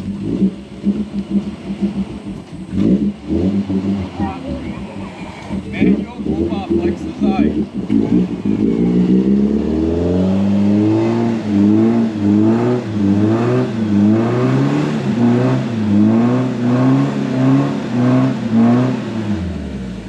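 A Toyota Hilux crawls up an off-road canyon track in Glasshouse Mountains, its engine revving and labouring in rising, wavering surges beneath excited talk among the occupants.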